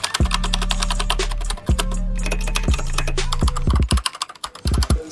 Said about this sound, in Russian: Шикарная полноценная клавиатура с нампадом.